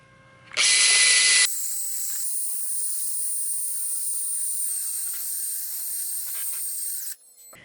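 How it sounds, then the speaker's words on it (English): A high, whining power sander wet-sanding a plastic face shield lens with soapy water starts with a loud burst, then settles into a steady shrill hum for several seconds before cutting off. "And we'll spray a little bit of soapy water. And we'll go to get to sanding"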